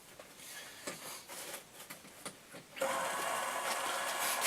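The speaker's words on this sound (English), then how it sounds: "And these rollers spin." A small machine with spinning rollers, plugged in for tumbling brass with sand media, whirs faintly then steps up to a steady louder hum after a few seconds of soft clicks and rattles.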